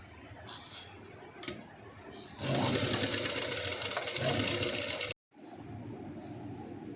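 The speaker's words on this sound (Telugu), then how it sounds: "ఇవి కూడా స్టిచ్ చేసుకోవాలి." A sewing machine stitching blouse fabric for a V-neck princess-cut front runs in a loud, steady, fast whirring burst for a few seconds, then stops briefly and starts again, close to the microphone.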